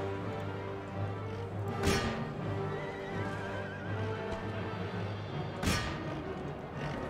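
Cavalry horses in the video game Empire: Total War, during a battle at Quebec, whinny loudly twice over a continuous rumble of galloping hooves and battle noise.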